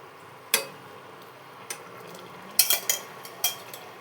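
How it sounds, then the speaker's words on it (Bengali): Pieces of katla fish go into a pan of simmering curry gravy, giving a few sharp clinks and light plops. One stands out near the start and a small cluster comes later, over a faint, steady low background. "এবার ঝোলের মধ্যে মাছগুলো দিয়ে দেবো।"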